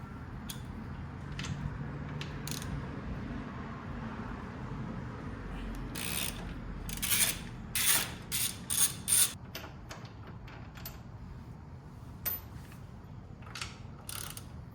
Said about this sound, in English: we'll need to take these 2 14mm bolts out